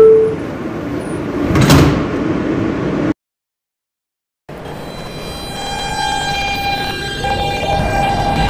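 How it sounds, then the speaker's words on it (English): Doors of an R160 subway train on the A/C/E line close in a Roblox game, with a sharp hiss and rising electronic chime before a brief cut to silence, then the train's steady hum and whine resume. "Stand clear of the closing doors, please."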